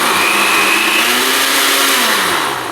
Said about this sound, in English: I'm going to blend that up real quick.